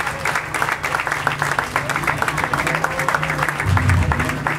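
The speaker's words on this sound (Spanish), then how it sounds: "Un aplauso fuerte a Jesucristo." A church congregation claps steadily and loudly in praise during a worship service, a continuous wash of hand claps with a low musical or vocal hum running beneath it.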